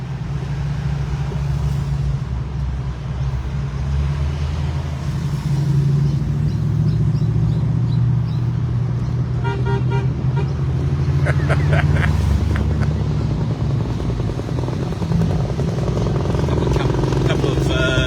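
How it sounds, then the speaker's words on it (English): Old vintage cars and motorbikes roll past in a street parade, a loud continuous low engine rumble under steady crowd and talk, with brief higher mechanical whines partway through. "Old cars merging with bad brakes"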